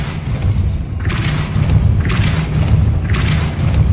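Three Depulso spells are cast in Hogwarts Legacy, each a heavy booming thump with a bright rushing burst, landing about once a second over a low rumbling game backdrop.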